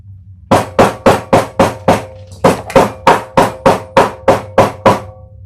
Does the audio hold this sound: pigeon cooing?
no